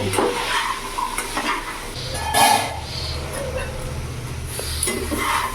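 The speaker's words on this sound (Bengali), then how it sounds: "এবার সব মশলা সব কিছু দিয়ে আমি ভালো করে কষিয়ে নেব" Spices and masala for chole being stir-fried over a raised gas flame, a steady sizzle with scraping stirs and clinks against the pan, close by, with no clear talk.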